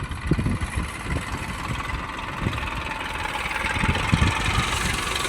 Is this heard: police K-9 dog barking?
no